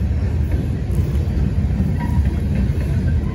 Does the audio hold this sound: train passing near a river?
yes